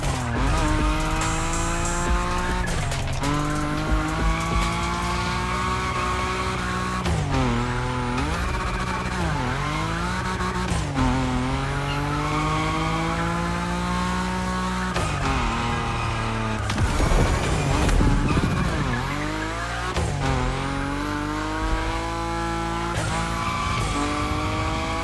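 Nissan Nismo car sliding sideways at high speed in The Crew Motorfest, with a loud, steady engine drone and drawn-out tire squeal that rises and falls through repeated drifts, near and continuous with no talking.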